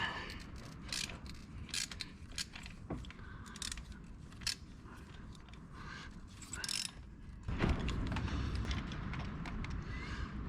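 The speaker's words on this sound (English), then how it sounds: "You'll need an extension for this part and a spark plug wrench." A spark plug wrench on an extension turns spark plugs loose on a Lincoln MKZ Hybrid, giving a run of soft ratcheting clicks and metallic taps up close, with a louder scrape near the end.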